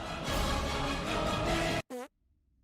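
A cartoon fart sound effect from an animated short film: a brief, rising, buzzy blat that follows a loud, dense burst of orchestral or effects noise, then sudden silence.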